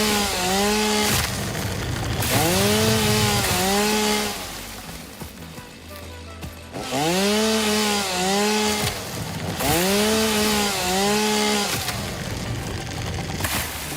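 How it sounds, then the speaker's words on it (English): Chainsaw in Satisfactory cutting through a patch of foliage, several loud revving bursts that rise and fall in pitch with short idle gaps between them, close and alone with no talk. "if I could aim my chainsaw properly"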